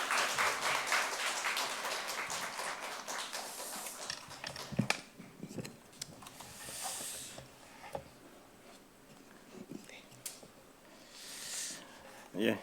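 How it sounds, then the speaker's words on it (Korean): A church congregation at a Wednesday prayer meeting claps in sustained applause to welcome a missionary, a dense, steady patter from a crowded room that tapers off, with a few scattered claps at the end. "우리 박수로 우리 선교사님 모시도록 하겠습니다"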